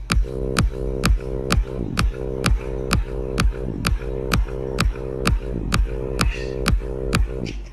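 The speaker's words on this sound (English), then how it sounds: "if I play the kick and the bass together, it sounds like this." Punchy kick drum hits land in a steady rhythm, locked together with short, pitch-dropping bass notes in a repeating groove.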